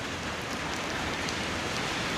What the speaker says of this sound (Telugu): బాగానే పడినట్టుంది వర్షం